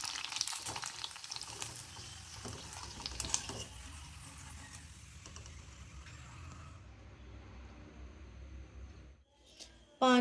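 Panipuri puri balls deep-fry in a pan of hot oil, giving a dense, steady sizzle and crackle close up that runs for several seconds, then drops away near the end.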